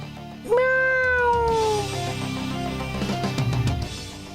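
A cat lets out one loud, drawn-out meow that trails off, followed by fainter rustling and shuffling sounds.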